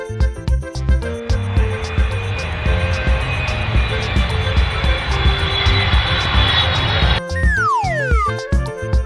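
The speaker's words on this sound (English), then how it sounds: "Aeroplane. This is a aeroplane." An aeroplane engine roars steadily and loudly for most of the stretch over light background music, then breaks off into a falling whoosh effect.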